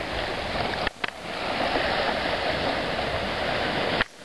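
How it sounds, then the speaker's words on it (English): Rough sea breaks against a beach breakwater, making a continuous close roar of rushing, churning water that surges briefly near the start and again near the end. "You can see the water breaking off that breakwater."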